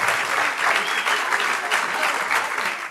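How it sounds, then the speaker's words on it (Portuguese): Loud, steady clapping from an audience filling a hall, dense and continuous for a few seconds with no break. "deves dar um aplauso bem grande a ti mesmo"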